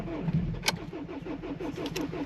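A cold diesel car engine cranks with a rapid, rhythmic chug, nearly catches with a brief sharp burst, then keeps turning over faintly, close by.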